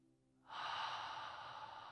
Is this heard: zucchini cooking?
no